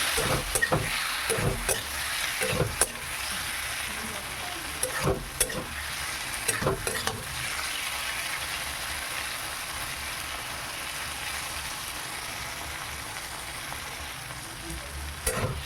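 Boiled bottle gourd tossed in a hot pan with chopped green chillies, giving a steady close sizzle with several sharp scraping stir strokes early on, then an even frying hiss with no talking.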